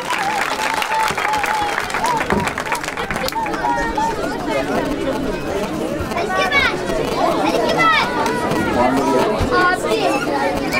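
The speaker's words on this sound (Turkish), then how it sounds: "Yarışmacımıza alkış." Audience applause for a child contestant at a theatre talent show, loud and continuous with crowd chatter and voices speaking over the clapping.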